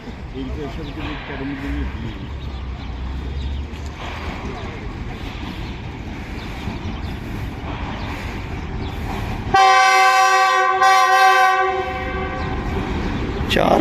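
Lasani Express passenger train running between Lahore and Sialkot passes through Badami Bagh railway station, a rumble of rolling wagons under the station's ambience, then a loud sustained horn blast with strong tones for about two seconds near the end.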